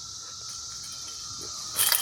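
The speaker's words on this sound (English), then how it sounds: "That is a cicada." A cicada outdoors in rural Kentucky gives a steady, high, continuous buzz at moderate loudness, broken near the end by a brief louder rustle.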